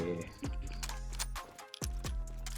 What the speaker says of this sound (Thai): ผมชอบรีโหลดอย่างนี้ด้วย